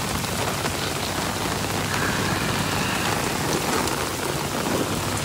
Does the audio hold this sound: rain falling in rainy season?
yes